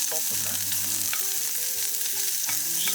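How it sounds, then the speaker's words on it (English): Sliced onion sizzles loud and close in a camp oven at a campsite while it is stirred around. A musical tone runs beneath the constant frying hiss. "now we're going to add the sliced onion. Give it a really good stir around"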